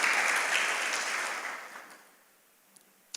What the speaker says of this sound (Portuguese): Vamos aplaudir Deus por esse texto, gente?